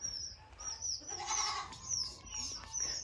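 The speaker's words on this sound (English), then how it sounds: "So now I've got screaming goats" Goats cry out on a farm in spring, loud bleating calls up close with chirping birds high over them and steady outdoor background noise.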